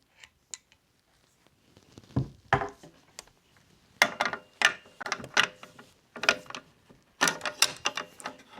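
A Weatherby or Sako rifle with a spiral-fluted bolt being cycled by hand, with a few sharp metallic clacks and slides that come in quick bursts, close and clear, and no talking.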